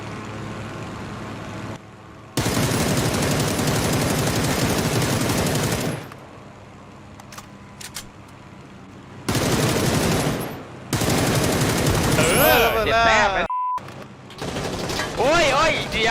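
Sustained machine gun fire in PUBG on the Sanhok map, loud and close, in long continuous bursts broken by brief pauses, with voices talking over the later stretch.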